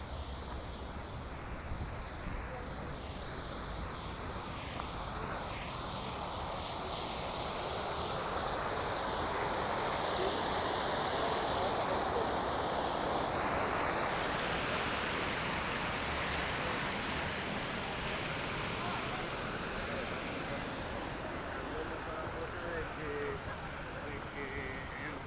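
Water flowing at a boat-shaped monument on a Spanish seaside promenade, a steady broad rushing wash that swells in the middle and carries on under faint ambient background.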